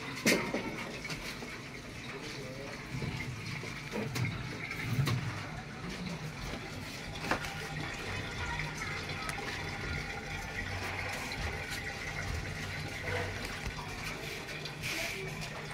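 Water drains from a washing machine during a drain test, giving a steady rushing, gurgling flow that runs on for the whole stretch at moderate volume, with a few clunks and knocks.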